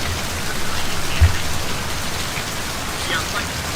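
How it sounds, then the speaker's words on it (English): Loud, dense rain pours steadily in the video game Left 4 Dead 2, a constant close hiss without pauses and with no talking over it. "this rain is unbelievably loud"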